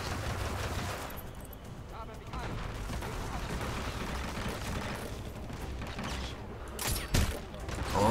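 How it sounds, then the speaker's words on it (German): Gunfire in the video game Hitman: Absolution, heard as rapid bursts of shots and sharp impacts against a dense, noisy game soundscape, with a louder crack near the end. "Jetzt habe ich noch 5 Schuss."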